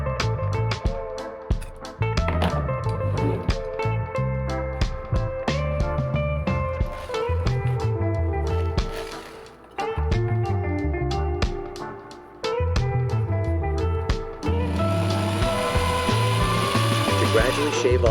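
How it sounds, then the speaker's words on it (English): A metal file pressed against the spinning shaft of an old motor being turned into a CNC spindle, giving a loud, continuous grinding rasp with a whirring hum and brief dips where the file lifts off. "While the motor was running, I held a metal file against the spinning shaft."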